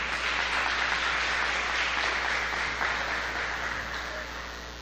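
A church congregation breaks into warm, even applause, many hands clapping together in a steady wash over a low hum that eases off toward the end.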